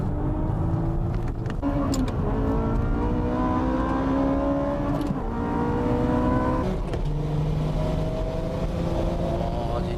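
Porsche 996 Turbo accelerating hard in a race, engine pitch climbing through gears with brief drops at shifts, loud and close under continuous road and wind roar.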